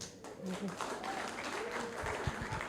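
An audience claps at a school debate, a faint, distant wash of applause running steadily beneath voices talking throughout.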